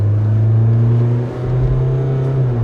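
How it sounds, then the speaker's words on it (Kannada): A Mahindra Thar Roxx SUV's diesel engine revs steadily with a deep, loud drone, rising slightly partway through, close and continuous with no talking. "ರೆವಿಂಗ್ ದ ಇಂಜಿನ್, ಡೀಸೆಲ್ ಇಂಜಿನ್"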